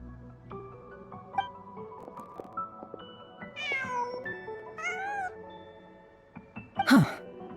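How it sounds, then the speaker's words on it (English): Cat in the video game Genshin Impact meowing several times in short, rising calls over soft background music, ending with a sharp sneeze-like burst. "Just a cat."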